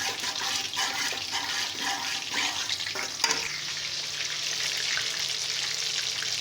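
Kofta masala of garlic, ginger and onion sizzling steadily in a pan after a spoonful of yogurt goes in, a continuous close frying hiss with a brief clatter midway.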